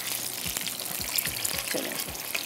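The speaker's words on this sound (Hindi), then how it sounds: "तो मिर्चों को मैं निकालती हूँ, ये देख लीजिएगा फ्राई हो चुकी हैं हल्की सी" Chillies frying in oil in a pan make a soft, steady bubbling sizzle up close, with faint spatters and occasional low knocks of movement, no talking.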